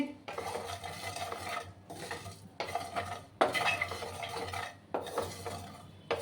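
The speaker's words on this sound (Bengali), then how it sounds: "একটু হালকা আমি ড্রাই রোস্ট করে নিচ্ছি।" Spices dry roasting in a pan for a potato curry, stirred in repeated bursts of scraping and light metallic clinking separated by short pauses, fairly quiet and close, no voices.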